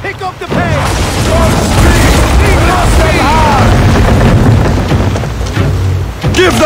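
Ship cannon fire and explosions rumble in Assassin's Creed Origins as a naval battle unfolds, with heavy booms and a constant loud roar under shouting voices.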